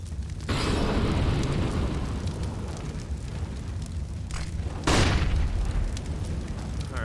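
Grenades exploding in a competitive online shooter match, two heavy booming blasts a few seconds apart, each followed by a long rumbling roar, loud with no talk.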